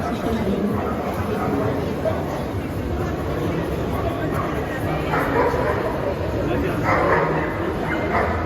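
A Shih Tzu gives short yips and barks amid background chatter, with people talking over it in a busy, noisy space at a dog fashion show in Mexico.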